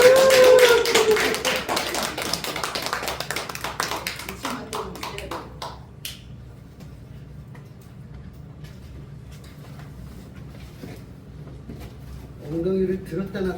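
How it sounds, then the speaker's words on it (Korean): Church service congregation claps briefly at the start, a burst of sharp hand claps fading within a few seconds, followed by quieter room sounds and scattered taps, with a voice speaking near the end. "박수 크게 우리"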